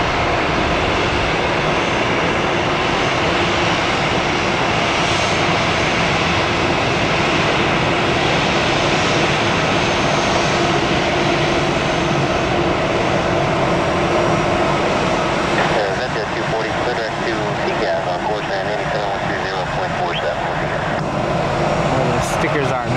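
Allegiant airliner jet engines roaring steadily and loudly at close range for the whole stretch, a broad continuous rumble with a shifting whine toward the end.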